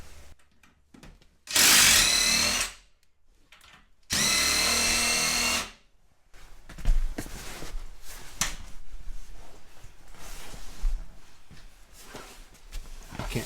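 Power tool bursts at a wall-mounted bolt during a busy shop day: two loud, sustained whirring runs of about a second each, then quieter clatter and handling noise.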